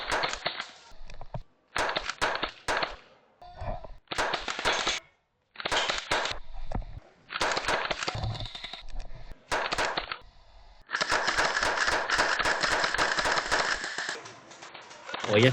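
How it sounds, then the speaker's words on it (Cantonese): Gel blaster guns fire during a gel blaster game in Shenzhen, sharp bursts of rapid plastic-sounding shots that come in clusters with short gaps, and a voice talks between and over the volleys. "今日最主要都係帶小朋友嚟體驗下呢個水彈啦"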